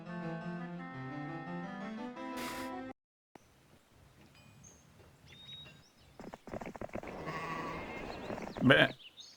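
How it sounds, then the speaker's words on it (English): A goat bleat from the Heroes II video game rings out as a loud, wavering cry, then gives way to quieter clicks and game noise while someone talks. "That's the best sound effect. It's a random goat."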